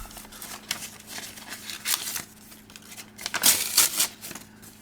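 Taped plain white paper envelope being torn open by hand, a series of crisp ripping and crinkling bursts, louder toward the end, close up with no talk.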